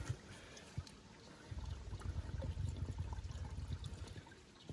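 Water being collected by a hiker on the Appalachian Trail, a soft steady trickle and pour with a low gurgle starting partway through, faint and close, no talking.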